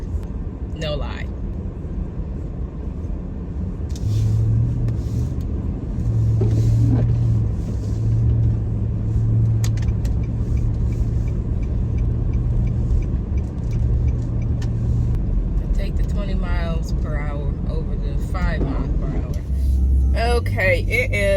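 A car creeps along at about five miles per hour through a blowing snowstorm, its engine and road noise forming a steady low rumble throughout, with people talking over it.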